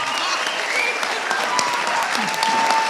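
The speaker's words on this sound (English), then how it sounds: "Let's give a big round of applause to Alexandra." An audience at a dance competition event gives loud, continuous applause, dense and sustained without letup, with a few voices faintly in the crowd.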